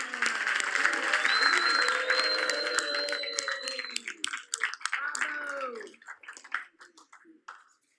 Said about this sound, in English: Let's all cheer for Tamara James